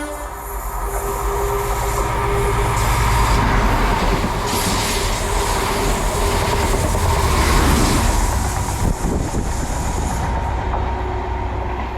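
A train with HST power cars 43004 and 43122 roars past a station platform on a service to Penzance, a loud, sustained engine rumble and rail noise with a horn tone and clattering wheels, close and without speech.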